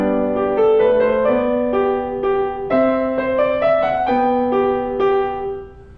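Bach's Minuet in G on piano, played evenly with the notes all connected and no wrist-shaped phrasing or light staccato, a single clear melodic line over bass notes, close and steady.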